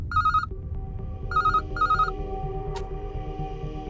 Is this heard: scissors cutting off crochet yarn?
no